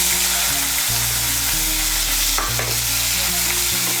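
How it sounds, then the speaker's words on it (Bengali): Chopped onion frying in oil in a pan, a loud continuous sizzle and hiss with steady stirring and a low humming tone underneath. "পেঁয়াজ কুচিটাকে তেলের সঙ্গে মিশিয়ে নেব। মিশিয়ে নিয়ে লাল করে ভেজে নেব।"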